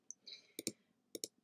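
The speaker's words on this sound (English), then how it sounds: "it'll take a lot of mouse clicks to fill this in" Computer mouse clicks, close and crisp, coming as a single tap and then two quick pairs of double clicks over a near-silent background.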